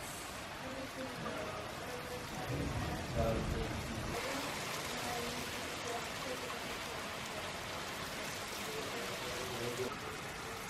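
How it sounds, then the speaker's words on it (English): Rain falls during a summer outing in Germany after hot weather, a steady close hiss of drops that swells briefly. People talk over it. "Finally, guys, it's raining."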